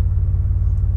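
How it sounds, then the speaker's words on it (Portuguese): A Chevrolet Blazer DLX V6 idles at about 680 RPM, a steady, close, low engine rumble that holds an even pulse throughout with no talking. "O carro está em marcha lenta aí"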